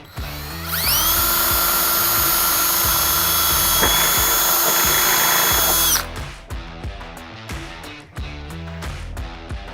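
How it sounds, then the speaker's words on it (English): Power drill boring a pilot hole with a 7/64 bit while installing an LED light on Amp Research power steps; a loud, steady high-pitched whine runs about five seconds, then stops, leaving clicks and handling noises. "We're gonna drill our second hole."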